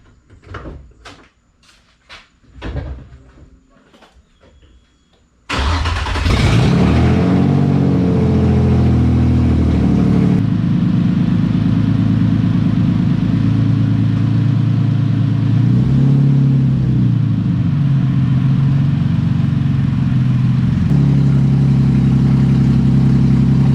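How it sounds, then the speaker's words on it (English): A Nissan S13 with a KA24DE engine starts after a few brief clicks and clunks, then settles into a steady, loud idle and low rumble as it is put in gear and driven slowly, with small rises in revs. "I'm gonna start this thing up and put it in gear and drive it halfway up the garage."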